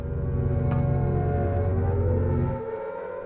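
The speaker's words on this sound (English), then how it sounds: "Distorted sirens." A low, droning, warped siren tone from Silent Hill 2 hums with layered harmonics, steady and ominous, before fading down near the end.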